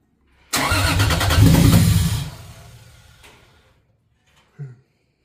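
A 2JZ engine in a Supra, short on fuel pressure from a leaking fuel line, cranks hard and nearly catches with a loud sputtering burst that fades over a couple of seconds, followed by a short thump.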